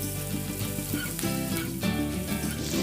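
Thuthuvalai greens frying in a hot pan with curry leaves, a continuous loud crackling sizzle with brief stirring scrapes.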